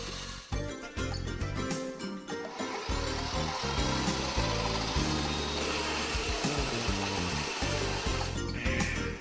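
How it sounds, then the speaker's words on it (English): A power saw fitted with an alloy blade spins up and cuts steadily and loudly, with a continuous whine and a rough grinding texture that carries on without a break. "Begin cutting when the power tool has reached a sufficient rotation speed."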